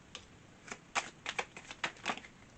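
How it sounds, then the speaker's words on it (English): Quick bursts of tarot cards riffling and slapping together, several short crisp shuffles in an uneven rhythm, fairly close and moderately loud. "I'm going to do 3 shuffles."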